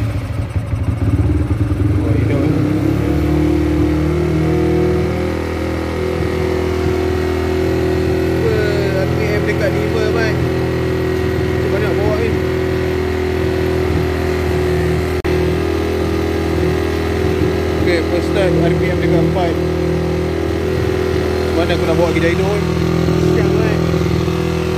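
A Sym VF3i motorcycle with a newly fitted aftermarket ECU starts up and settles into a steady, loud idle close by, with small throttle rises along the way, while someone talks over the engine.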